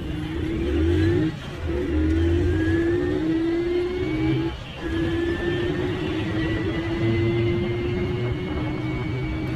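A Honda CD 70 motorcycle pulls away in first gear, its engine note rising steadily in a continuous loud drone with a brief dip midway, heard up close with no talking.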